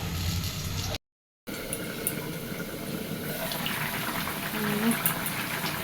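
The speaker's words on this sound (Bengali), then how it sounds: "জল ফুটে গেছে ভোর ফুটে গেছে" A pot of water for a fish curry is at a rolling boil, giving a steady, close rushing bubble that runs without a break apart from one short dropout. No voices are heard.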